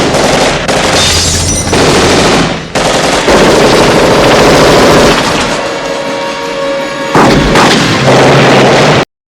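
Dense machine-gun and artillery fire from a Die Hard 2 snowy gunfight scene, loud and sustained with booming blasts, nearly continuous for about nine seconds with only brief gaps.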